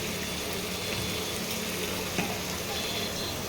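Spices sizzle and fry in hot oil in a pan while being stirred for a prawn malai curry, a steady close crackling hiss with a faint scrape of the spoon partway through.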